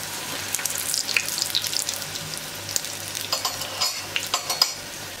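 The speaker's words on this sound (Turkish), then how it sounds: "Ben şimdi hepsini bu şekilde kızartacağım." Börek pastries frying in oil in a pan, a steady close sizzle with crackling pops and a few clinks of a utensil near the end, no talking.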